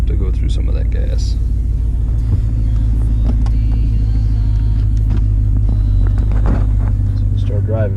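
Jeep SRT engine running on E85 fuel after a conversion kit install, a loud steady low rumble heard from inside the vehicle, with brief clicks and voices over it.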